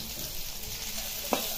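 Green chilies frying in hot oil, a quiet continuous sizzle close by with one brief sharp tap or clink near the end.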